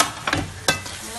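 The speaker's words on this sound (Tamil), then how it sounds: "துருவி வச்சுருக்கிற தேங்காயை போடணும்." Grated coconut is stirred into a simmering mutton gravy, giving two brief, close scraping strokes through the thick sauce over a soft background hiss.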